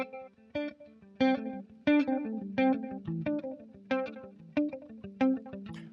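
An electric guitar picks a pentatonic pattern of clear, separate plucked notes in a steady rhythm, each note trailing off into delay and echo repeats, played alone without talking.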